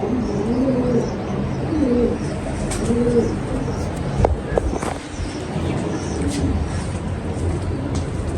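Pigeons coo in soft repeated phrases nearby, with faint chirps and some background noise and clicks.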